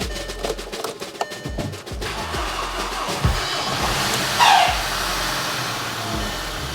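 A 2.0-litre Skoda Octavia Tour that has sat unused for days cranks with a burst of rapid starter clatter, catches after about two seconds and settles into a steady idle with light tapping from the hydraulic lifters.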